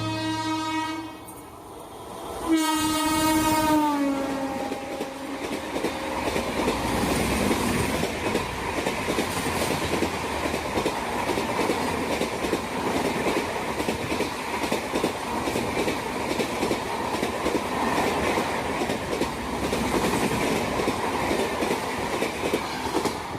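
Train passing with a loud horn blast at the start, followed by a steady rumble and clatter of wheels on rails that continues at close range for the rest of the clip.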